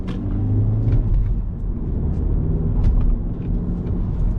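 The 1.6 MPI engine of a 2007 Audi A3 accelerates from inside the cabin, a steady low rumble and drone that holds for several seconds without speech.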